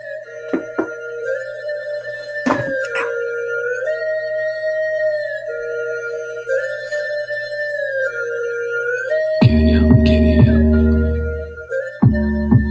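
Music plays from a Bose speaker with a steady melodic line and sustained tones, then heavier, bass-rich passages kick in near the end.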